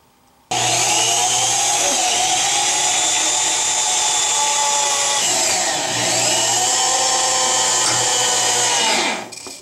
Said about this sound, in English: I have my drill and my screws and my bracket right here